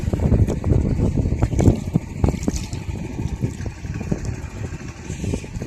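A passenger launch boat under way on the river toward Dhubri, its engine giving a continuous low rumble mixed with wind buffeting the microphone and water noise, loud and close throughout.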